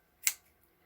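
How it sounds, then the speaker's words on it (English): Scissors snip once through soft material, cutting fringe for a no-sew winter hat for a doll; a single short, crisp cut close by in a quiet room. "And then with your scissors, you can cut into"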